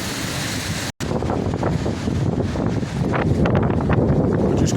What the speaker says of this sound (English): Now we're walking into the wind,